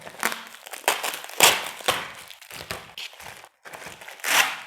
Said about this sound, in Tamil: ஓகே, அந்த டேப் ரிமூவ் பண்ணிட்டேன்.